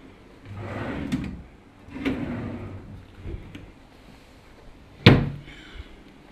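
Drawers of a large wooden chest in a resort butler suite slide open and shut several times, with soft scrapes and a sharp closing knock near the end, close up and without talk.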